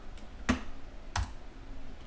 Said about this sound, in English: pressing enter on your keyboard